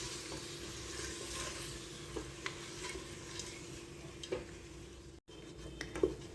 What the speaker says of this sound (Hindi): अब यहाँ पर हम इन तमाम की अच्छी तरह से 5 से 7 मिनट के लिए भुनाई करेंगे